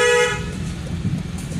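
A car horn gives one short honk at close range, followed by the low rumble of the car idling on a narrow lane.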